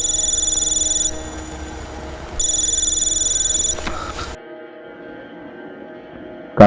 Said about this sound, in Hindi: कि तभी कार्तिक का फोन बजा